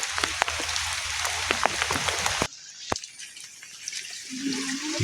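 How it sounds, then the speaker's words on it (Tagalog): Heavy rain hammering down on a muddy road with scattered sharp drops and splashes, then briefly quieter before a low rumble joins near the end. "Ang lakas ng ulan."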